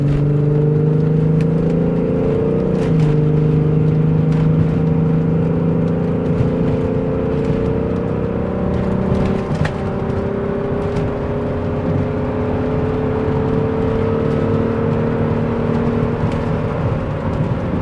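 Volkswagen Corrado with an OBD1 VR6 engine shifted into reverse and driven, giving a steady loud engine drone and whir close by with slowly rising pitch and no pauses.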